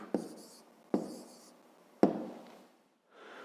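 Pen or pencil strokes on paper while writing down an answer to a fifth-grade decimal subtraction problem, three short scratchy bursts with pauses between, close and quiet, no talking.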